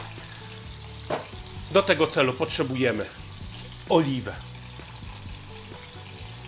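Chicken fries in a pan under a brick, a steady close sizzle throughout, while someone speaks briefly over it.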